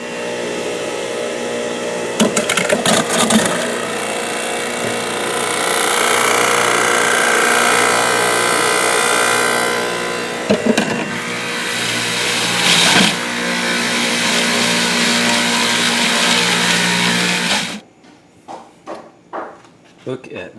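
A juicer machine whirs loudly as it juices fruit such as mangoes, a continuous close motor drone with clunks and shifts in pitch that runs for most of the span before cutting off, leaving quieter background voices.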